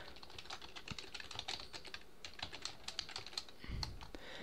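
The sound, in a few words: typing on a computer keyboard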